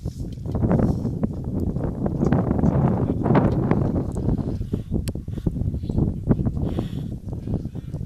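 Gusty wind at an outdoor baseball game buffets the microphone, a rough low rumble that swells and fades in uneven bursts across the whole stretch.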